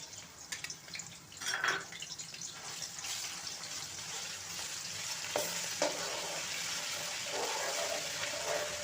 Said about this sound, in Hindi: घी गर्म हो जाए तो उसमें 1 चम्मच भर के कुटी हुई लहसुन और अदरक का डाल दें।